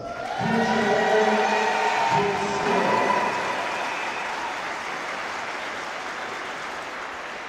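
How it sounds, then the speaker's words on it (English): Spectators applaud the silver and gold medalists at an Alberta Scotties women's curling final, with a burst of clapping over a sustained tonal hum that tapers off into arena ambience. "Round of applause to our silver and gold medalists."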